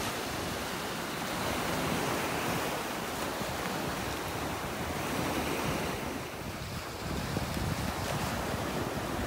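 Ocean surf on a beach in North Naples, Florida, a continuous loud roar of breaking waves mixed with wind buffeting the microphone, with no voices.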